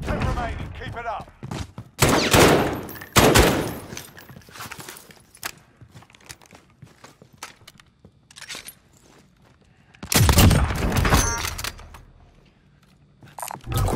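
Bursts of gunfire in the video game Call of Duty on PlayStation 4, loud clustered volleys separated by quieter stretches, with in-game voices calling out between shots.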